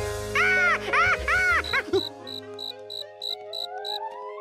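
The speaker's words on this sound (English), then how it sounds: "George set the cricket free to happily hop back to his cricket home." A cartoon cricket chirps in a rapid regular train of short bright pulses, following a brief burst of playful musical tones at the start.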